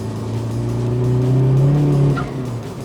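A Peugeot 306 fitted with a swapped 1.9 TDI PD130 diesel engine and big turbo, revving while driving: a loud, close engine note rising steadily in pitch, then easing off near the end.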